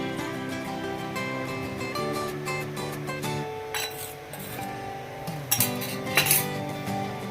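A spoon stirs amla rice in a metal pot, giving scraping, clinking strokes over a steady background hum, with a few sharper clinks toward the end.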